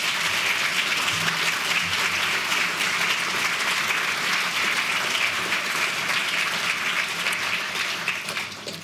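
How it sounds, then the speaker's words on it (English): A large audience at the 2023 Voltaire Human Rights Award ceremony claps steadily for the winner, a dense, even wash of applause that holds strong for nearly nine seconds before easing slightly at the end. "Can we please give a round of applause to our Voltaire winner?"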